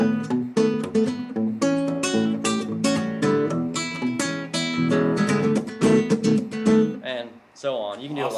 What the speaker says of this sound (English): So, and if you do the turnaround, it'll sound like this.